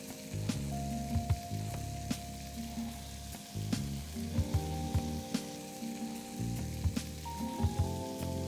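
Mutton with tomato puree frying in a pan for a spiced achari gosht curry: a steady, close sizzle with bubbling and repeated scrapes of a spoon stirring through the thick mixture, no voices.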